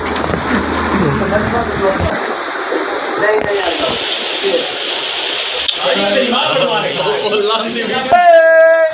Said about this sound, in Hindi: ओए तूफानी बारिश, इतनी तूफानी बारिश यार